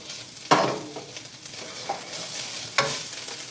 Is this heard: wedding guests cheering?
no